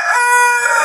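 A rooster in a chicken coop crows loudly and close by in one sustained, harmonic call that fills the whole moment without any talk.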